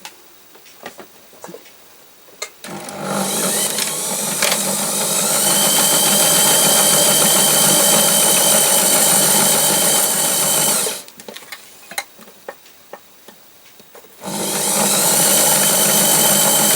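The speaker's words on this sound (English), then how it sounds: "you can't really see my sewing machine" A sewing machine runs in a long steady whirring stretch, stops briefly with small clicks and handling sounds, then starts stitching again.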